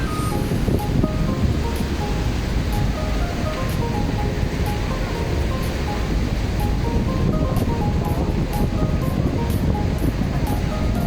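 Steady roar of sea waves washing ashore on a Mindanao beach, continuous and fairly loud, with wind buffeting the microphone throughout.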